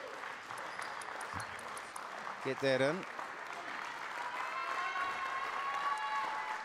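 Crowd applause at a school boys' football match, Fraser versus Rotorua, a moderate distant clapping wash under an announcer's voice, with a brief shout and whistle-like tones.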